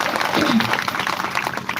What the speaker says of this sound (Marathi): टाळी वाजवा एकदा सगळ्यांसाठी